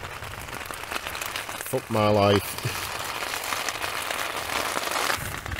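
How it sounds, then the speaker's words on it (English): Heavy rain drums steadily on a tent at night during a wild camp, a dense continuous patter filling the whole stretch while someone speaks briefly near the middle. "try and drown some of the noise out of the rain"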